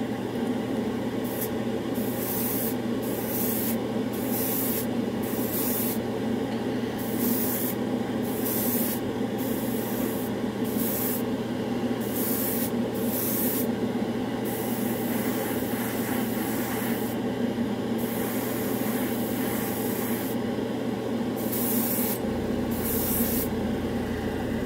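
A hobby airbrush, a GSI Mr. Hobby trigger type, sprays Badger Stynylrez primer in short repeated hissing bursts over a steady hum of an air compressor, close and fairly quiet, with no talking.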